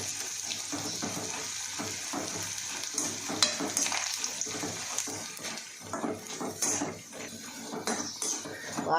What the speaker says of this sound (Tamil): பாருங்கள், நல்லா பொரிஞ்சிருச்சு.